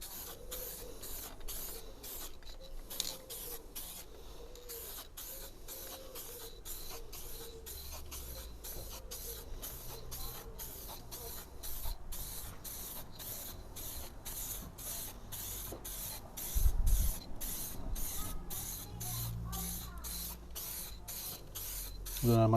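A spray gun lays the first dust coat of paint on a car in steady, rhythmic hissing bursts, quiet and close, with faint handling knocks and no talk.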